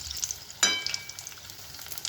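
Marcha bhajiya, chili fritters, frying in hot oil, with a steady soft sizzle and a brief louder crackle burst as the fritters bubble, heard close and alone.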